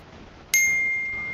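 A single bright ding rings out after a moment of quiet hiss, then slowly decays.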